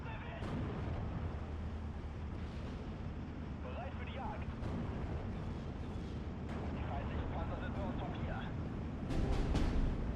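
High-explosive shells burst in Steel Division 2, a World War II strategy game. The booms are muffled and fairly faint, scattered over a rumbling battlefield background, and a sharper, louder blast comes near the end.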